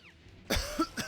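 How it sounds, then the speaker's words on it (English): A single loud, sharp cough bursts out close to the mic, followed by a couple of shorter rough coughs in quick succession over a quiet room background. "Wow, that was a loud cough."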